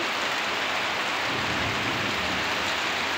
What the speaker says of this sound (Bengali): খুব জোর বৃষ্টি হচ্ছে টিনের উপরে।